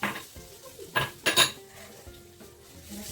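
Ginger garlic paste is sautéed in a pot for mutton curry, with a few sharp metallic clinks and scrapes of a spoon against the pot, close and distinct, above a faint sizzle.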